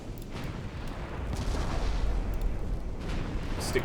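Shells ricochet during a World War II battleship fight in Ultimate Admiral Dreadnoughts, heard as distant, muffled booms and rumbling gunfire under a steady low roar of battle.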